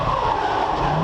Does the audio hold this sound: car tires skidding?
yes